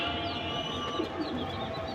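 Pigeons coo steadily inside a breeding loft, many birds overlapping into a dense, continuous murmur of low throaty calls with a few higher chirps, close and fairly loud throughout with no talking.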